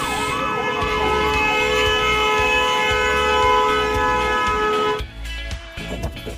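An ambulance siren on the Kedarnath pilgrimage route wails loud and close in a steady rising-falling cycle, then cuts off abruptly near the end, leaving only low background rumble.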